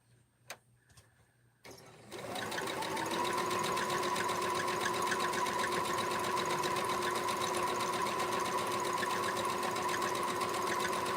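A sewing machine stitches rag quilt blocks of seven-inch fabric squares, starting after a few soft clicks and then running in a steady, fast, close mechanical whir with rhythmic ticking.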